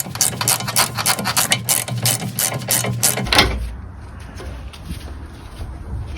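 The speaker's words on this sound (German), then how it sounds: "Anschließend löse ich die 17 mm Mutter an der Spurstange." A wrench ratchets rapidly on the 17 mm nut of a Mercedes W124 tie rod, a loud close run of fast clicking strokes for about three seconds, then stopping to leave quieter workshop handling noise.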